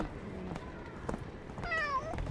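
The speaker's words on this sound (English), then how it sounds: "I heard kitty cat meowing." An orange cat meows close by in two or three short rising and falling calls, with a brief soft thump and faint room noise between them.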